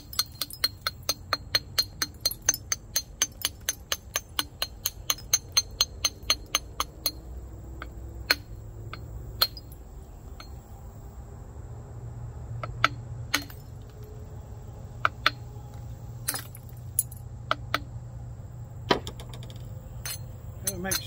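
Flint knapping while trimming the edge of a flint biscuit: a rapid run of sharp, close stone clinks at a steady rhythm, then sparser, irregular taps with quiet gaps.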